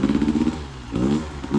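A motorcycle engine revs hard, dips briefly as a gear changes, then climbs again in quick, close bursts with a rough, clattery edge.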